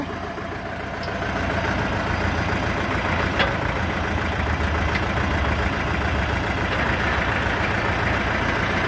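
A Shifeng 404 C tractor engine idles and runs steadily throughout, a constant low rumble with no pauses, loud and close.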